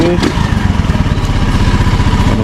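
A small Honda Navi motorcycle engine idles steadily after warming up, its low, even chugging pulse close and continuous with no talk.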